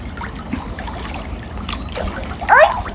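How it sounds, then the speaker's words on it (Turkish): Child swimming and splashing in a pool, with light water trickles throughout and a sharper, louder splash near the end, under an adult's voice talking encouragingly nearby. "Ne güzel yüzüyorsun sen."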